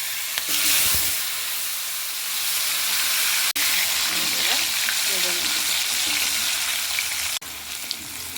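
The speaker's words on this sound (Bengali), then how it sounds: "এখন আমি আলুগুলো ভেজে নেব।" Potatoes frying in hot oil in a pan just used for frying fish make a loud, continuous, close sizzle, with a few brief spatters and stirring clicks.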